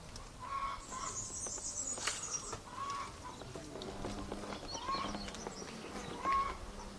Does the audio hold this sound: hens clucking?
yes